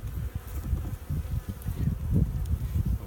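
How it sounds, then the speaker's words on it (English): Honeybees buzzing around a beehive, a steady, close, low droning hum that swells and fades over a few seconds, with no voices. "A weak hive at this time of year would have, you know, far fewer bees than this."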